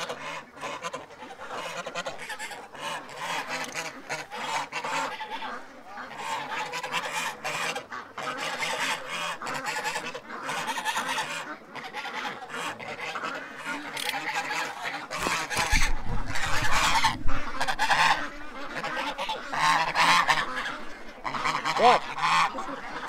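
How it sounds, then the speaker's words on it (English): Geese honk repeatedly and loudly at close range, a dense flock calling over one another without pause, the clamour swelling further in the last third. "Yeah, Goose, I hear you."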